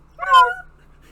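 A dog in a 2005 animated robot comedy gives a single short, rising whimper, loud and close, with nothing else around it.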